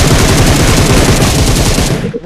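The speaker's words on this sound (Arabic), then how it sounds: "حرام ضربني ضربة شوتجن" Loud, rapid bursts of gunfire from the PUBG video game, including shotgun blasts, fill the moment in a dense, continuous barrage that cuts off at the end.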